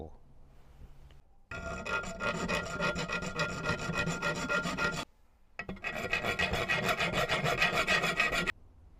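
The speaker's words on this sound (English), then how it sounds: "I'll take a file and clean that up and see if that makes it any better." A hand file rasps across metal in a workshop, cleaning up burrs on a ring. It comes as two long, steady bursts of scraping strokes, loud and close, split by a short pause.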